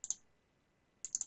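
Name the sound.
mouse double clicking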